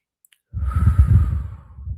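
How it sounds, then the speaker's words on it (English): A single slow, deep breath drawn in and let out, close and fairly soft, starting after a moment of quiet and lasting about a second and a half. "They take deep breaths"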